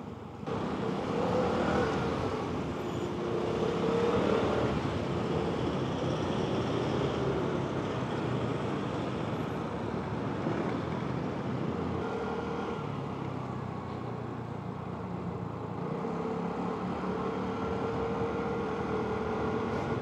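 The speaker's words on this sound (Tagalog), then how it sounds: "Yung traffic." Steady road traffic in Marikina near SM, a continuous broadband rumble of passing cars and engines that holds throughout with no talking.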